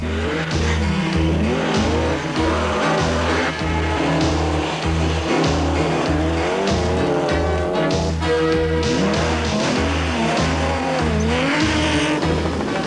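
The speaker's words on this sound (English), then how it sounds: "The Audi Quattro S1 is an awesome piece of machinery." An Audi Quattro S1 rally car is driven hard on a 1987 mountain trail course, its engine droning steadily and loudly with rhythmic pulsing and rising and falling revs throughout.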